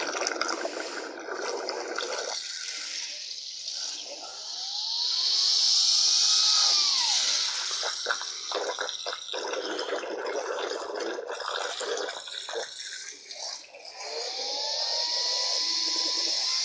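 Water splashing and pouring over a running vacuum cleaner motor during a torture test, a loud hissing, gushing wash that swells and fades over a whirring motor whine, with spluttering bursts.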